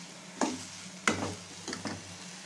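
Tomatoes with salt are sautéed for chutney as a spoon stirs them in the pan, giving a few distinct scraping knocks over a low, quiet sizzle, with no talk.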